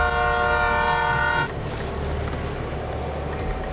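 Train ride in a film: a sustained horn-like tone over rail rumble, then the horn cuts out and a steady rolling rumble continues alone.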